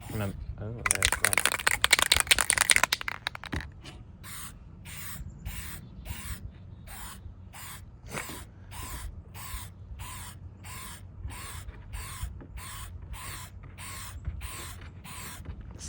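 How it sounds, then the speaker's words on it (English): An aerosol spray paint can lets out a loud, steady hiss for a few seconds, then sputters in a long run of short, evenly spaced bursts as it runs nearly empty, close up. "Spray can crying for help."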